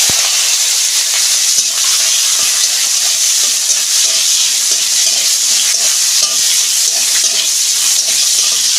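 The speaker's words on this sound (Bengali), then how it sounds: "এই যে কাঁচা টমেটোটা দিয়ে দিচ্ছি" Raw green tomato goes into a hot frying pan with black cumin seeds, giving a loud, continuous close-up sizzle and hiss with faint stirring scrapes and no voices.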